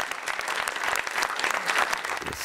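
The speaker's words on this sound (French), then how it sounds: "Je demande de l'applaudir." Audience applause fills the hall for a maritime prize winner joining the stage at the 2012 Mémoires de la Mer event, a dense, steady wash of many hands clapping throughout with no voices over it.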